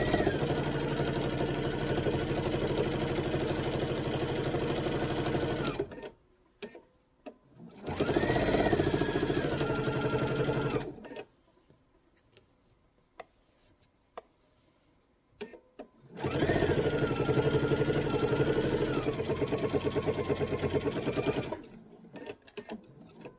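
Close, loud bursts of a sewing machine stitching the top trim of a tote bag, three separate runs with quiet gaps between them.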